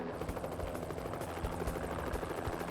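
A helicopter flies overhead during a police pursuit of armed fugitives, its rotor making a continuous, fairly faint chopping drone with a steady rhythmic beat.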